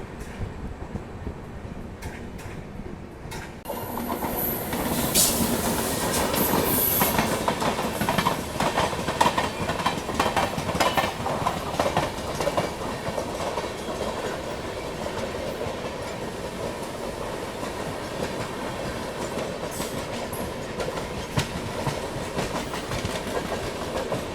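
The Poorvottar Sampark Kranti Express rumbles fast along the tracks toward New Delhi with steady clickety-clack and roaring wind noise, loud and continuous from inside the carriage.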